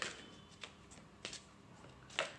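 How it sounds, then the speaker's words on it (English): A deck of large tarot cards being shuffled, with a few soft riffling bursts spaced across a quiet, close-up moment. "I think I'll just cut my deck."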